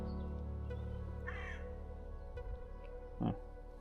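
Crows cawing beside the Gloucester canal during a live feeder fishing match, a couple of short calls at moderate distance over steady outdoor background hum.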